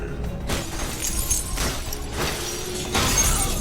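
Glass shatters in a Star Wars: The Clone Wars episode, a crashing burst of broken glass and debris with scattered crunches over several seconds, loud and alone.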